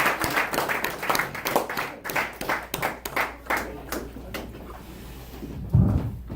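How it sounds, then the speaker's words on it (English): A small audience applauds after a talk: uneven, sparse hand claps ring out at moderate distance for several seconds, thinning toward the end, with a dull low thump near the close and no talk. "Let's give him another round of applause"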